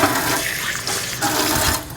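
Water rushes steadily from a tap into a pot being filled for boiling, a loud, continuous splashing flow close by with no talk.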